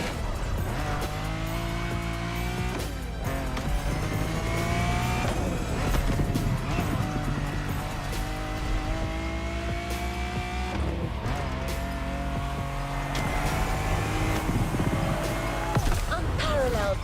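A Lamborghini Countach driven in The Crew Motorfest racing game, engine droning loudly and steadily with rising and falling revs across gear changes, mixed with game music and effects, with no one speaking.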